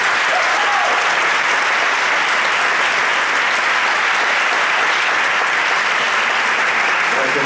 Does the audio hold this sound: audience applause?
yes